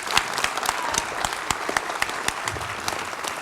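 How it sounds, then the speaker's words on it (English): A crowd claps steadily for a few seconds, dense overlapping hand claps at moderate volume with a few sharper individual claps standing out. "Ruth, let's give her an applause."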